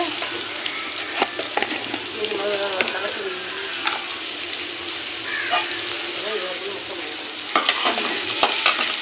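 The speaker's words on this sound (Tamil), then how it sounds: "வெங்காயம் நல்லா வதங்கணும்." Onions for crab masala sizzle and sauté in a pan, a steady close frying hiss broken by scraping stirs and light clinks of a spoon.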